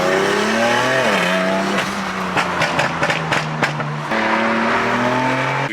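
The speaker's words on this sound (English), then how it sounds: "Now we got Kenzie revving her X3M." A BMW X3M engine revs hard among other performance cars, loud and close, with rising and falling engine tones and a burst of sharp rapid pops in the middle.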